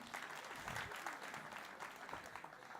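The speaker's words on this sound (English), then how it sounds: "Give yourselves a round of applause." An audience at a leadership convention keynote applauds, a faint but continuous patter of many hands clapping together.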